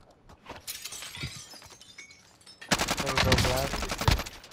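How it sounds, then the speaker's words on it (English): Enemy armor shattering under gunfire in a first-person video game: quieter game noise, then a loud burst of rapid gunfire with bright cracking, shattering breaks through the last two seconds. "Broke that guy's armor."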